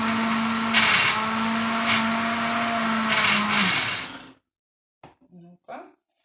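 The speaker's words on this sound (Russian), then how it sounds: "И буквально минуточку все это пробиваем в блендере." Kitchen blender whirring loudly and steadily as it blends oat-protein pancake batter with egg, kefir, salt and baking powder, then cutting off, followed by a few soft clinks and handling sounds.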